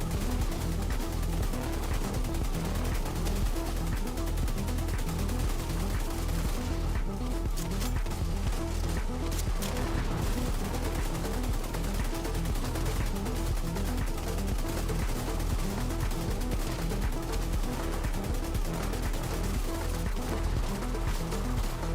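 Continuous video game gunfire in The Division 2, a dense, loud barrage of rapid shots that goes on without a break, with no talk.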